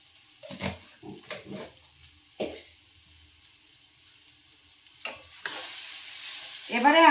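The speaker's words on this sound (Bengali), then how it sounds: "এবার মশলাটা ভালো করে আমি কষিয়ে নেব।" Spice paste is sautéed in oil with a few scattered stirring scrapes, then a soft, steady sizzle rises and grows louder toward the end.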